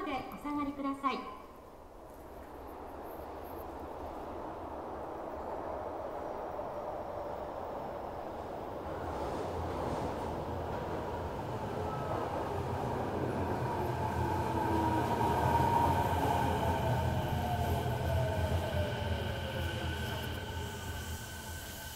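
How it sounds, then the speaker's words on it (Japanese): A Kobe Municipal Subway Seishin-Yamate Line train rolls into Itayado Station, its rumble and wheel noise swelling steadily and squealing faintly as it slows, with a Japanese platform announcement playing early on. "2番線に静清中央行き電車が参ります。"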